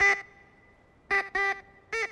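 A blown duck call imitates a duck's quack, sounded during a hailstorm drive down a volcano: one short nasal honk, a pause of about a second, then three quick quacks in a choppy burst, fairly loud with no talking.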